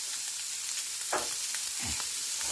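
Seasoned vegetables sauté in a hot pan with a constant bright sizzle, while two brief swishing stirs sweep through the middle, close and clear with no voices.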